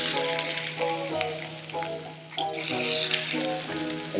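Red beets sizzle and crackle in rendered salmon fat in a pan, a steady close frying hiss with a brief dip and then a brighter, louder burst of spattering.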